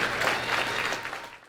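At a high school football awards banquet, a room of diners applauds the Booster Club in a brief, dense burst of clapping that quickly tapers off.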